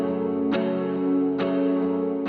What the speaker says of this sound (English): So I'm using the compressor and the reverb and delay of this preset